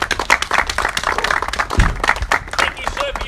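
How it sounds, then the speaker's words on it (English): A small crowd claps after a house sells at an outdoor property auction, giving a few seconds of scattered, close hand claps mixed with talking voices. "round of applause, we are sold."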